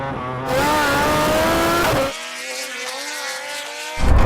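A supercar roars away from a standing race start, its engine revving hard through rising gear pulls before a brief drop and a fresh surge of acceleration, loud and close.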